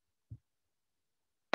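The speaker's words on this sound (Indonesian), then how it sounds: "Klik kanan." Two short, faint computer mouse clicks, spaced about a second apart, in a quiet room with no talking.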